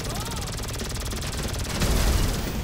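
Rapid automatic weapon fire in GTA Online, a dense stream of fast shots rattling continuously and growing heavier with low booms toward the end, alongside some vocal sound.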